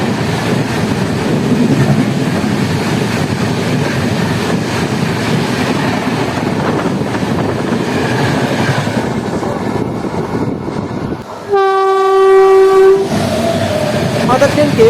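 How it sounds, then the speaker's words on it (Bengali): A superfast express train overtakes on the adjacent track, its loud, steady rail rumble heard from aboard a moving train, with a sharp horn blast sounding near the end. "আমাদের ট্রেনকে ওভারটেক করলো SMBT Bangalore Guwahati ত্রিউইকলি superfast express ভায়া রামপুরহাট।"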